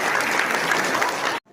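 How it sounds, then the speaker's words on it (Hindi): Villagers gathered at a protest over opening a liquor shop give their official a round of applause, a dense, loud wash of clapping that cuts off abruptly into near silence. "जोरदार ताली हमारे अधिकारी के लिए।"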